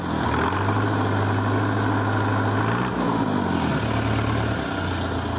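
A loud, close diesel engine of a Scout 404 tractor drones steadily, its pitch rising and dipping a few times as the throttle is pushed.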